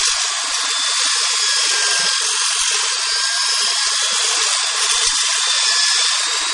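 A drill boring out the hosel of a golf club over a workbench, a steady high-pitched whine that runs continuously and loud throughout, with faint low knocks underneath.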